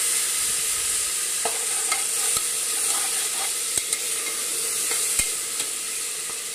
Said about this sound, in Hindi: और इसको अच्छे से थोड़ा सा भून लेंगे।